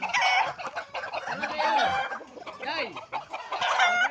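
Several roosters crowing and chickens clucking close by, overlapping calls filling the whole stretch with a busy, noisy barnyard chorus.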